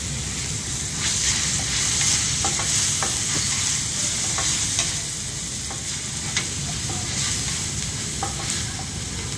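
Chopped tomatoes fry with onions in a pan, giving a constant close hiss and sizzle. Light scraping stirs click through it at irregular intervals, and no voices are heard.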